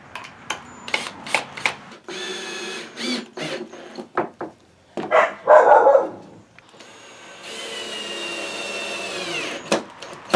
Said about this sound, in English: Bark when someone shows up.